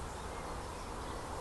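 A massive swarm of bees flying out of trees, a continuous dense buzzing hum, steady and fairly close, with no voices.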